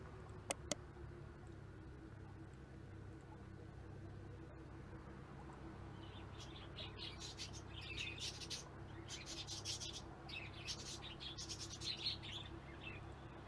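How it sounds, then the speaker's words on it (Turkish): Birds in the pet shop game Exotica Petshop Simulator, with faint bursts of chirping and tweeting that start midway and repeat over a steady low hum, quiet and somewhat distant. "Evet, kuşları yerleştiriyorum."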